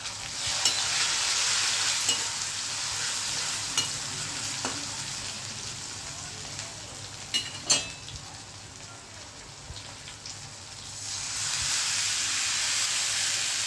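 Loud continuous hiss of tomatoes frying in a garlic tempering fills the whole stretch, with occasional spoon scrapes and a couple of clanks midway, easing slightly before swelling again.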